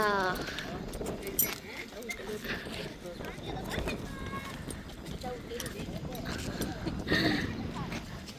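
Horse hooves clip-clop on hard ground amid a busy outdoor scene at Jawatha Park, Hofuf, Al-Ahsa, with people talking and chattering over the steady hoofbeats.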